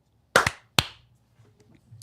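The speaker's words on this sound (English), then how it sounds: "Let's clap it up." Two podcast hosts clap at the start of a live tech show, a quick double clap followed by a single sharp clap, close and loud, then near silence.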